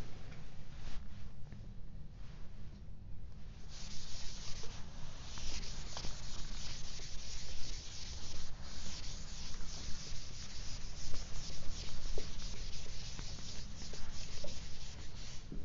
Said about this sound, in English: you can erase this one